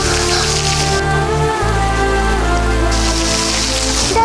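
Rain falls during a storm as a loud, dense, unbroken hiss with steady musical tones sustained beneath it.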